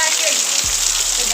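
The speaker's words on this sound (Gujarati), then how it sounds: "વાયરો છે ફૂલ ને વરસાદ છે" Heavy rain driven by strong wind at a village house, a loud, dense hiss of falling water with a low wind rumble, continuous throughout.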